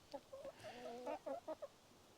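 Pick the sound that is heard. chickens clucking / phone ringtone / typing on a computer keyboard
chickens clucking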